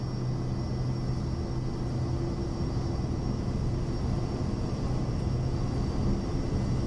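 Private jet engines spooling at full takeoff power in the MSFS 2020 flight simulator at night, a steady dense roar and rumble holding evenly the whole time, with no voices.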